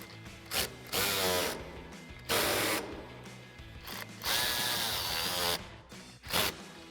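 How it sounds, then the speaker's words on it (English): A ratchet clicks in bursts of rapid pawl ratcheting while T30 Torx bolts are tightened on a Jeep Wrangler JL Bestop soft top, close and loud with short pauses between strokes. "so you want to use a ratchet"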